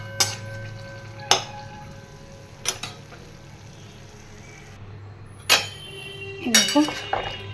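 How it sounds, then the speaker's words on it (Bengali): Mustard seeds and dried red chillies spluttering in hot oil in a pan, a soft sizzle punctuated by sharp clinks of a utensil against metal and a few crackling pops, with a brief voice near the end. "দেখো দিয়ে দিয়েছি তেল এ দেখো সর্ষে আর শুকনো লঙ্কা ফোড়ন দিয়ে দিয়েছি"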